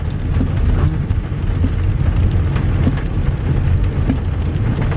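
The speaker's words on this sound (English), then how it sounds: "but it's still raining" Rain falling steadily during a drive, a dense, even hiss of drops with a constant low rumble of the moving vehicle underneath, close and unbroken.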